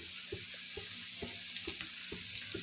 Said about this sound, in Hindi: इन्हें डाल करके हाई फ्लेम पर मैं इसे फ्राई कर लेती हूँ